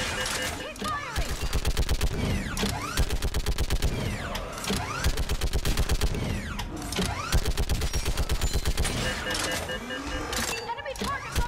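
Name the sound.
gunfire in Mass Effect 3 video game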